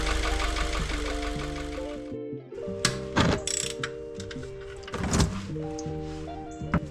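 Warmed-up 2016 Subaru WRX engine with an abnormal noise, a mechanical whirring tone broken by sharp clacks and rattles, heard up close at moderate level.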